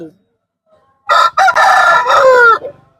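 A rooster crows once at a livestock market in Tirupur, India, loud and close, a drawn-out cock-a-doodle-doo after a brief quiet, with a faint voice just before.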